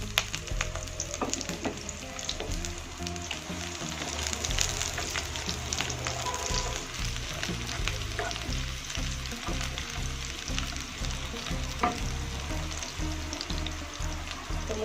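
Shallots dropped into 10 ml of hot oil fry with a loud, constant sizzle and spatter, interrupted by regular low knocks of a utensil against the pan, while Aceh-style red meat curry is being prepared.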